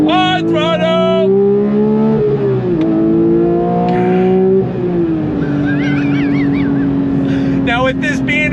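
A 992-generation Porsche 911 GT3 Touring accelerates hard on throttle, its engine note loud and continuous, climbing in pitch through several gears with brief dips at each shift.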